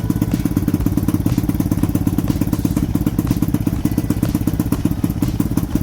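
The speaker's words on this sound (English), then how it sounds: "we're gonna start off with a cold start on this one. Just gotta actually use the choke on it" A Lifan KP Mini 223 165FMM motorcycle engine runs on choke after a cold start. It gives a loud, close, steady chugging with fast, even thumps and no talking.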